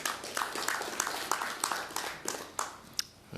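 Scattered applause at a board of directors study session, light uneven clapping from a small group, fairly faint and thinning out toward the end.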